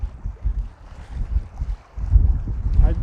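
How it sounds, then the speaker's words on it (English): Strong wind buffets a boat out on the water, a constant rushing roar with gusty low-end rumble that grows louder and rougher near the end, loud and close with no clear voices. "it's so windy here"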